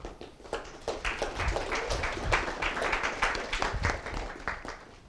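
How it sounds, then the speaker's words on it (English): An audience at a design talk claps in a lively, dense patter of many hands that swells and holds fairly loud for several seconds, with no one speaking. "So, applause again."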